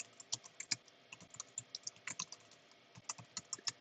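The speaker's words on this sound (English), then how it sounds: "I'm typing if you can't hear it." Quiet, quick keyboard typing: irregular bursts of clicking keystrokes, close by, with no talking.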